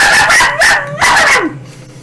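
A person imitates a kobold with three quick, loud, yappy dog-like barks in close succession, raspy and high, the last trailing off into quiet.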